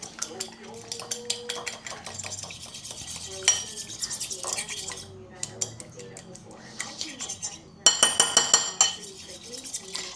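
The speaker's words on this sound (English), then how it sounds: "I'm just going to put that in the egg mixture and give it a swirl" Chicken stirred into an egg mixture in a bowl, with quick repeated clinks and scrapes of cutlery against the dish, close up, and faint sizzling in the background.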